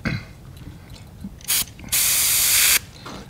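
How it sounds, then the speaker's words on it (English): An airbrush sprays opaque yellow paint onto the back of a fishing lure, heard as a short close hiss followed by a longer steady spray burst, then a brief final puff. "Now I want to paint the back of this bait all the way up to almost the head with opaque yellow."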